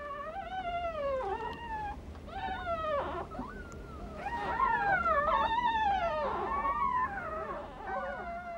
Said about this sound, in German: Die Fuchswelpen sind noch taub und blind. Nur Kontaktrufe stoßen sie ständig aus.